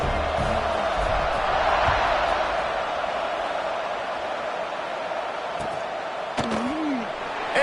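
A football stadium crowd in a video game at kickoff, a broad steady roar that swells early and then holds as a distant wash, with a brief sliding tone near the end.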